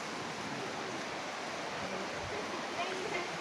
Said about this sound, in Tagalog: Taytay Falls.